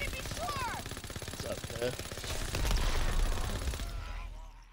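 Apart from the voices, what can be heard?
gunfire in a WW2 zombie video game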